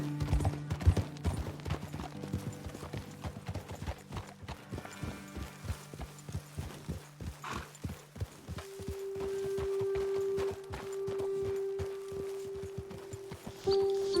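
Horses' hooves clip-clop steadily in Red Dead Redemption 2, a brisk walking rhythm of close, distinct hoof strikes with a sustained tonal hum rising over the final stretch.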